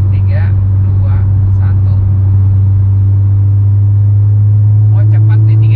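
A Mitsubishi Evo IX wagon accelerates in sixth gear from around 3000 rpm, a loud, steady low engine drone with a rising tone under short bursts of a voice counting.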